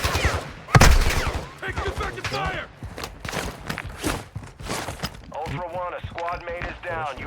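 Gunfire in the video game Call of Duty Warzone DMZ crackles in short bursts under an excited voice, with one loud shot standing out early on.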